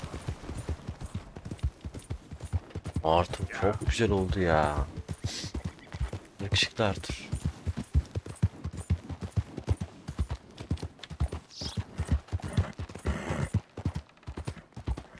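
A horse's hooves gallop in Red Dead Redemption 2, a steady rhythmic clip-clop of hoofbeats running throughout while someone talks casually over it.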